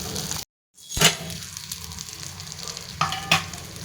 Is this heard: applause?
no